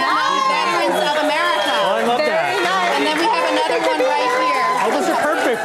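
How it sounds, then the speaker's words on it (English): Loud crowd chatter at a Fiesta event in San Antonio: many overlapping voices in a steady, dense babble, close and continuous throughout. "The crowd is loud over here as well"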